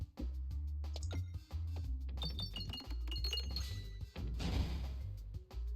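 Bombs going off in the pachinko-style video game Peglin, heard as a busy stream of bright clinks, pings and thunks over low game music, with a dense crackling burst near the end.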